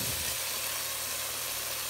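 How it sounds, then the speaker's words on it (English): Tomatoes, onions, garlic and mint sautéing in a pan for aloo gobi, a steady close sizzle and frying hiss with a sharp clink right at the end, no talk. "saute it."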